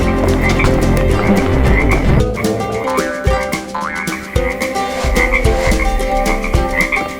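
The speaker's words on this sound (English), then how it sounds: "A frog!" A frog croaks loudly and repeatedly in a dense, rhythmic series against a busy stop-motion soundtrack, with no speech.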